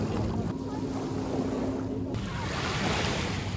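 Steady wash of sea waves and surf at a beach on Corfu as someone wades into the water, a continuous broadband rush with light wind noise on the microphone and no talking.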